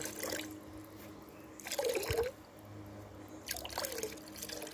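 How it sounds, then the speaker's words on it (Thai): Water splashes and trickles in separated bursts as fertilizer ingredients are stirred and dissolved into a bucket holding ten liters of plain water, close and moderately loud with quiet gaps between. "นำส่วนผสมทุกอย่างมาละลายน้ำค่ะ"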